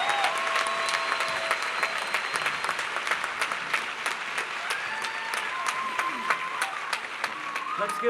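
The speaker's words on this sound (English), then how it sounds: "Let's give Brian another round of applause." Steady applause from a graduation audience at Mountain View High School, dense and continuous throughout, with scattered cheers and whoops rising over the clapping.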